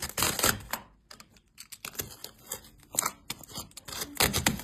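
Cardboard packaging around a laminator is torn open by hand, with close, continuous scraping, rustling and ripping noises in uneven bursts and no speech.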